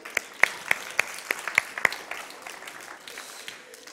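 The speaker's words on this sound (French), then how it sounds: "Bravo, Asimo, applaudissons-le." Audience applauding a running demonstration of the Honda ASIMO robot, a handful of sharp, spaced claps ringing out at first and then thinning to a soft patter.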